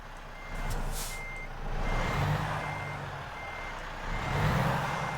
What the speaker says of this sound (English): you can hear the engine much better now